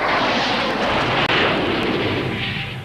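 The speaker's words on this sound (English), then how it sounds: "soon the sound of helicopters is replaced by the terrifying roar of low-flying RAF fighter jets" Low-flying RAF fighter jets roar overhead in a loud, continuous rushing blast that fills the whole stretch without a break, with no voices.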